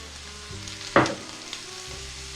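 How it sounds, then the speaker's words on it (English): Onions hit a pan of browned beef over medium heat, setting off a brief hiss and crackle that settles into a quiet, steady sizzle with a faint clink of utensils. "beef goes back over medium heat, and now we are going to add our onions"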